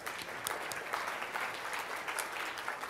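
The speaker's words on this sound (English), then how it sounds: "why don't you give yourself a round of applause here." Luncheon keynote audience applauding themselves, a fairly quiet but sustained patter of many hands with individual sharp claps standing out irregularly across the crowd.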